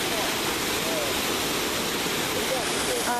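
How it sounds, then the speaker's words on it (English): A waterfall on the Appalachian Trail roars close by in a steady, dense, unbroken wash of rushing water. "And then bam, waterfall."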